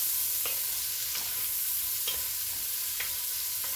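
Sugar stirred into onions sautéing in a pan: a steady, close frying sizzle with a few soft scraping strokes of the spoon spaced about a second apart, no voices.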